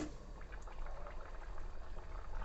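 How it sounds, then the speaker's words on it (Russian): Water in a pot for Kyrgyz plov, already seasoned with black and red pepper, bubbles at a steady boil, a soft continuous simmering hiss with no talking. "варится вода."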